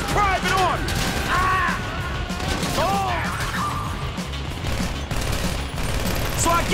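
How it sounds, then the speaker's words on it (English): Gunfire in the video game GTA V, rapid bursts of shots under a loud chaotic scene, with voices talking over the shooting. "So I guess we're shooting our way out of here."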